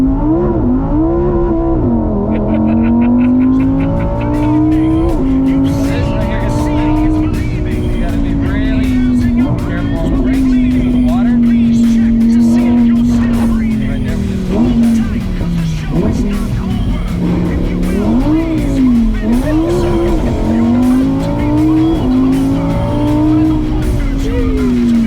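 Lamborghini Evo Spyder drifting on a wet road, with a loud, sustained, wavering engine drone and tire noise that rises and falls in pitch through repeated slides, close and continuous.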